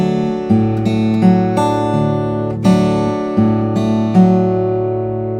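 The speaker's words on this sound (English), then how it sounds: "it would sound like this going from the 1 to the 4 chord." Guitar in an alternate tuning strums a repeated move from the I chord to the IV chord, ringing harmonic chords with plucked attacks roughly every second, close and clear with no talking.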